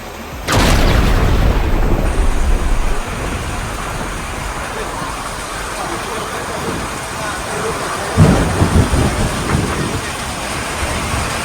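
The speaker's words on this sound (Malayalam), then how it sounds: "ശക്തമായ മഴയും ഇടിമിന്നലും കോടമഞ്ഞുമെത്തി" A thunderstorm with heavy rain and fog on the approach to Illikkal Kallu hill in Kottayam: dense rain roars in suddenly and pours steadily, and a deep, close roll of thunder booms through it toward the end.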